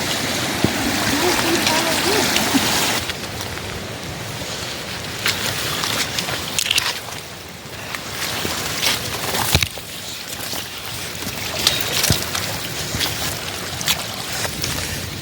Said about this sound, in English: We're crossing a small creek.